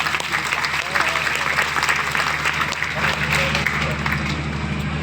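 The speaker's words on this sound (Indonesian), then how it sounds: "Tepuk tangan untuk beliau." An audience at a vocational school exhibition stand claps for a visiting official, steady crowd applause over a low mechanical hum, with some talking mixed underneath.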